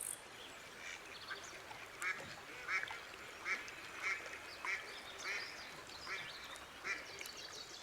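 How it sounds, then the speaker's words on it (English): A female mallard duck on water, a series of about eight soft quacks at a steady rhythm, fairly distant and faint over a quiet outdoor background. "This female mallard observes the heron's technique with curiosity."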